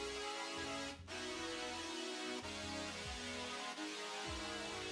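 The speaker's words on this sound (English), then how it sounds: "So first we have this synth pad." A sustained synth pad in an EDM/trap beat plays a layered chord, shifting through a few changes with soft low notes sliding underneath, quiet and alone.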